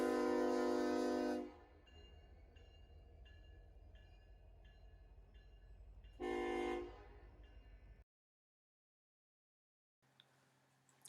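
Norfolk Southern freight train NS 170 sounds two long, loud horn blasts several seconds apart, with steady rumbling rail noise and a rhythmic clicking of wheels between them before the sound cuts out.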